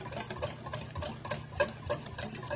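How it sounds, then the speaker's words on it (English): Italian chopped salad dressing whisked in a bowl, making a fast, steady, close rattling and clicking with an even rhythm that carries on throughout. "And then I'm just gonna whisk this together."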